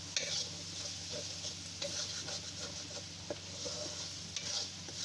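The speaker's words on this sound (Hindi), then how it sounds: "अब हम इनको थोड़ा सा भून देंगे।" Masala with turmeric frying and being stirred in a pan for keema with capsicum, a quiet steady sizzle with soft scraping strokes and occasional clicks throughout.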